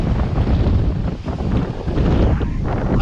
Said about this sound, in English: We've got winds gusting at 40